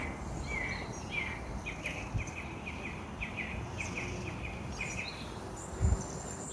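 Birds chirp in repeated short bursts over a steady hiss of insects and ambient woodland noise at a wild campsite.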